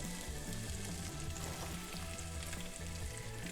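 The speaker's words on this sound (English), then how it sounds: "We chuck the zucchini in. Senti how they fry." Zucchini frying in hot bacon fat in a pan, a steady, close, continuous sizzle and crackle with no voices over it.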